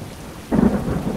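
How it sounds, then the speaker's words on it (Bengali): A cartoon storm effect: a sudden loud rumble of thunder bursts in and rolls on under a dense wash of heavy rain and gusting wind. "বিদ্যুৎ চমকানোর সাথে সাথে শুরু হলো মুষলধারে বৃষ্টি আর ঝোড়ো হাওয়া"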